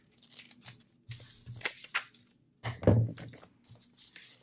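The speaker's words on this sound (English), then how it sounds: "So I'm going to cut this in half, not really half, but cut this part." Paper being cut for a fall scrapbook tuck spot, a few close, separate snips and rustling tears in two short bursts with quiet between them.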